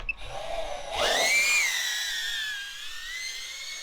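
An iFlight Alpha A85 FPV drone spins up and lifts off from an empty flowerpot, its props rising into a loud, steady high-pitched whine that lingers close by before easing slightly as it flies.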